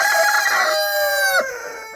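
A rooster in a coop of dominant roosters gives one loud, close crow that trails off after about a second and a half.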